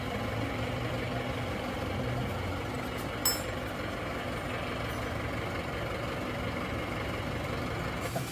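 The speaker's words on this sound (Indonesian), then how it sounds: "Yang jelas suara mesin halus" A smooth-running Panther diesel engine idles steadily and evenly at close range, with one brief click partway through.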